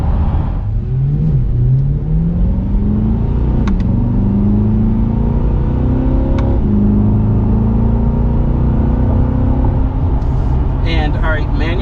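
Chevrolet C8 Corvette engine revving hard while driving, a loud steady drone rising in pitch through a long pull toward the red line, with a brief shift-like dip early on and no talk over it.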